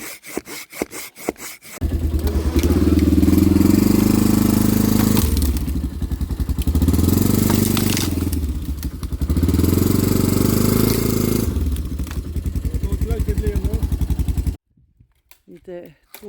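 Wood is sawn outdoors in the Zec Buteux-Bas-Saguenay forest, as three long, loud, droning bursts of cutting with short pauses between them, framed by brief knocks and clatter at the start and end.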